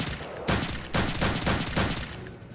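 Several short bursts of rapid automatic MP40 submachine gun fire in the video game Return to Castle Wolfenstein, each lasting a fraction of a second, loud and close with brief pauses between.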